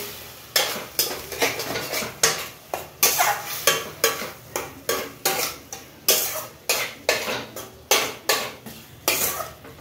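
A spoon scrapes and clanks steadily against a pan as tomato puree is stirred with fried onion and ginger, giving rhythmic loud strokes about twice a second over a soft sizzle.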